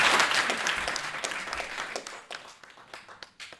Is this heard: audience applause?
yes